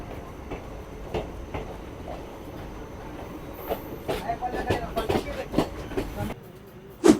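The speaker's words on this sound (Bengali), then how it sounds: "ট্রেন এসে পৌঁছেছে এখন বোলপুরে শান্তিনিকেতনে 1 নম্বর প্ল্যাটফর্মে" Sealdah–Rampurhat passenger express arriving at Bolpur Shantiniketan platform, rumbling wheels and intermittent clacks with a brief squeal near the end, under platform chatter.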